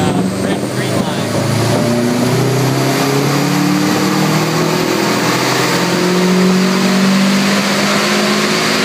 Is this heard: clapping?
no